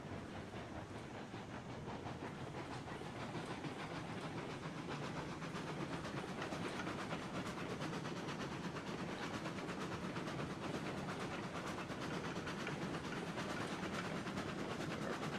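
A locomotive in the Railroads Online video game runs along rails with steady chugging and hiss, a continuous moderate rumble with no talk.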